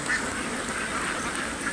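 Khaki Campbell and Jinding Campbell ducks kept for eggs on a poultry farm, a flock quacking together in a dense, continuous chatter at moderate distance.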